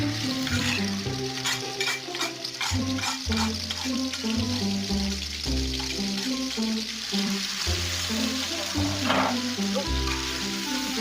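Spicy intestines sizzle and fry loudly in a generous amount of oil in a Sundanese home kitchen, a steady crackling hiss with stirring scrapes throughout, close and continuous.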